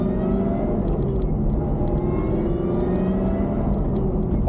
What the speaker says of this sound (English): Definitely can hear some whine. All right, FosterSC mod C7 Z06.